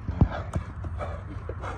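A horse being readied for ulak, the Kyrgyz horseback goat game, clip-clops with a few sharp hoof strikes close by, followed by lighter, irregular steps over a low background.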